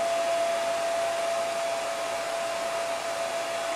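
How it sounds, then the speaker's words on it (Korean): A hair dryer blows continuously with a steady whoosh and a constant high whine, close and unchanging. "저런 드라이기 소리가 나오면 어떨지 되게 궁금하긴 해요."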